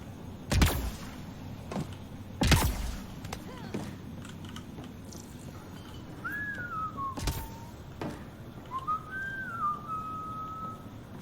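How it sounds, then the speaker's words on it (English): Someone whistles two short melodic phrases in the video game Mass Effect Andromeda. Loud mechanical clunks and thuds are heard between the phrases. "No whistling."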